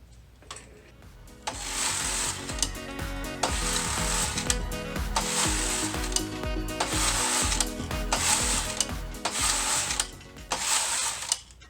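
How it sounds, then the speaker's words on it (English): SuperbaKnit knitting machine carriage knitting Fair Isle rows, a repeated mechanical ratcheting and clattering as the carriage slides back and forth in several passes, with brief pauses between rows and no talk. "I have my carriage set up to knit Fair Isle."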